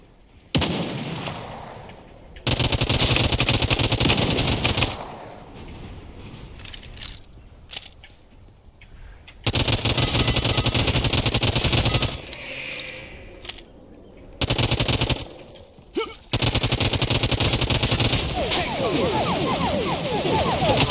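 Gunfire in a video game, including a sniper rifle, comes as loud dense bursts separated by quieter gaps across the clip, with sharp cracks and rattling fire dominating alongside brief lulls.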